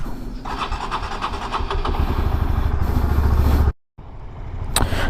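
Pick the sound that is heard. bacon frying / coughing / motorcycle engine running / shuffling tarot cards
motorcycle engine running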